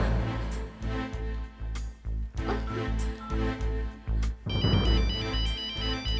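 Mobile phone ringtone playing a repeating melodic tune left in a room, loud and continuous with steady pulsing notes, a brighter electronic ring pattern joining near the end.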